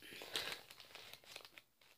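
A plastic bag crinkles and rustles softly up close in a quiet indoor craft setting, with a series of faint irregular crackles over about two seconds.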